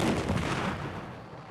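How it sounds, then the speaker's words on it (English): A salad cannon in the Nancy Drew game Trail of the Twister lets off one deep, booming blast that rumbles and fades over a second or so, with no talking. "It's a cannon for salads!"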